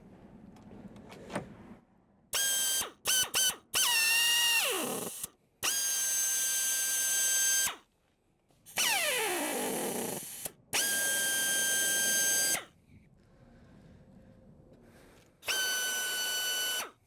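An air-powered tool installing door safety system hardware fires in repeated bursts, some short and choppy, others sustained whirs that wind down, with quiet gaps in between.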